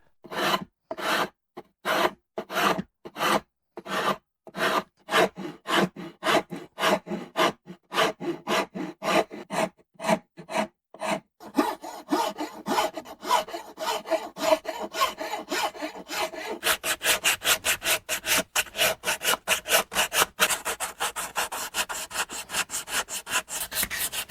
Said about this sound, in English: Now we can rasp off some of this excess wood.